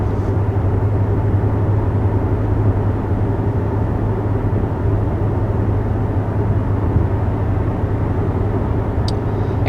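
Cabin noise inside a 2021 Mercedes GLB 250 cruising at 50 mph: a steady, continuous low road and engine rumble with a constant hum, no voices.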